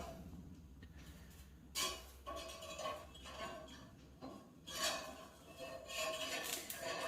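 Metal spatula scraping and clinking against a pre-seasoned cast iron dosa tawa as a dosa is flipped, with a few sharp scrapes and light metallic knocks over a steady low background.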